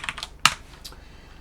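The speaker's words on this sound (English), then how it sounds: "I know I'm typing this in a text file" Computer keyboard typing into a text file: a short burst of a few crisp key taps, one louder keystroke in the middle, then a softer tap, close and clear with no talking.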